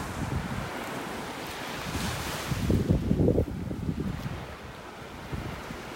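Ocean waves washing onto a beach in North Naples, Florida, a steady broadband rush with a louder surge midway, mixed with wind buffeting the microphone; no voices.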